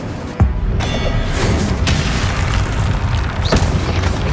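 An Incendio fire spell cast in Hogwarts Legacy goes off as a loud, punchy boom, followed by a couple of further sharp bursts over a constant rumbling game background.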